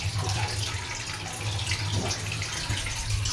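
Continuous rushing of a waterfall at a temple, a steady broad wash of flowing water with a low hum underneath.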